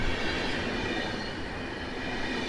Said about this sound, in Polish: przyjechał pociąg Intercity Mazury z Olsztyna do Łodzi Fabrycznej